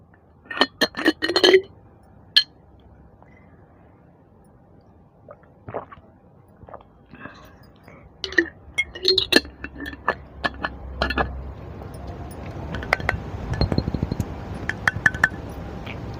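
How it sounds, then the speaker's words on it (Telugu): A bottle cap being opened up close, with a quick cluster of sharp glassy clinks and clicks followed by scattered softer taps, squishy crackles and a faint rustle, and no voices. "సో నార్మల్గా బాటిల్ మూత తీసినప్పుడు"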